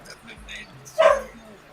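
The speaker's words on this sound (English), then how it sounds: "Guess the dog didn't like your singing" A dog gives a single sharp bark near the close, preceded by a few soft whimpering yips, with voices heard faintly around it.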